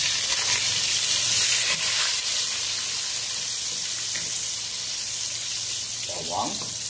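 Garlic sautéing in a pan for a chicken and moringa (malunggay) dish, giving a steady loud hiss and sizzle throughout with faint clinks, and a voice briefly heard near the end.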